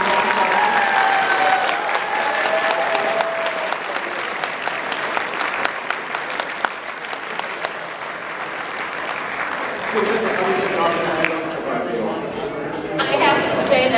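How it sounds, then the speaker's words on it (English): An audience at a fan convention gives a long, loud round of applause, dense clapping filling the room with light crowd chatter underneath. "If you could please give another huge round of applause for Linda from the Wisconsin Humane Society."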